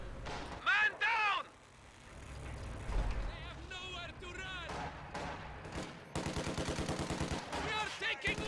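An MG42 machine gun and sniper shots sound in a war video game: scattered sharp cracks, then a fast rhythmic burst of automatic fire toward the end, under steady commentary from a speaking voice.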